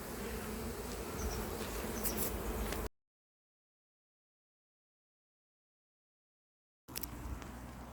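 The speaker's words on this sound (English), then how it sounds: "The swarm has settled now" A settled honeybee swarm hums in a dense, steady buzz outdoors, cutting out into silence for a few seconds before resuming.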